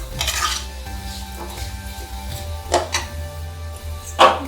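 Someone stirs mango pickle mixture in a pot over a lowered flame. A spoon scrapes and clinks against the metal. Two louder knocks come near the middle and end, over a steady low background hum.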